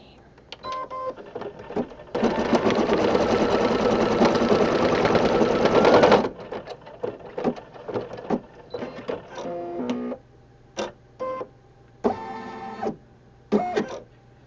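Embroidery machine stitching a heart design on fabric in a hoop, a loud steady whirring run of about four seconds followed by short separate stitching bursts and pauses, close up.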